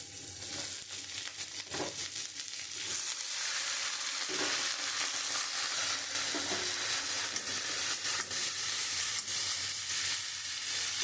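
Ivy gourd (kundri) tipped into onions browning in hot oil, giving a steady, loud, close sizzle with scattered crackles and stirring scrapes throughout, with no talking.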